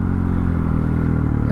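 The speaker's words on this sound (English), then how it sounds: "Wheelies up the hill." A motorcycle pulls wheelies up a hill, its engine droning loudly and steadily under load with a dense mechanical buzz, close and continuous.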